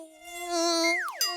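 A mosquito whines loudly and close in a steady high-pitched drone, its tone swooping downward near the end before a second buzzing pass starts.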